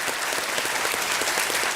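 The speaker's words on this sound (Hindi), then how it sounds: "बहुत बहुत स्वागत आप सभी का एक बार फिर तालियों के साथ" A studio audience on Kaun Banega Crorepati claps to welcome the guests, a brief, steady burst of dense applause at moderate level with no pause.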